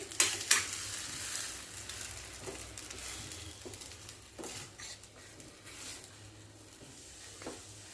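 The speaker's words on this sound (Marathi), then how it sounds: "अद्रक लसण कुटलेला आणि एक चमचा जिरे टाकले आता हे थोडं मिक्स करून घेऊया" Crushed ginger, garlic and cumin sizzle softly in oil while a spoon stirs and scrapes the pan, adding intermittent clinks over a low, continuous frying hiss.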